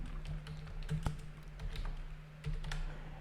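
Typing a city name on a computer keyboard, a quick run of close, light key taps with a few louder strokes and short pauses between them, and no talking.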